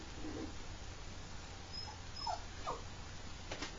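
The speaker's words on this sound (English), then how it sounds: "Sorry, guys, my puppy is crying here." A puppy whimpers and cries indoors in soft, high-pitched bursts, faint and close against a quiet background hum, with no talking.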